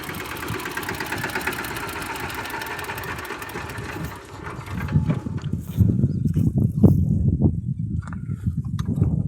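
A mini tractor engine, owned for five years, runs at idle with a steady mechanical chug close by, its pitch and rhythm shifting partway through into a rougher, lower throb.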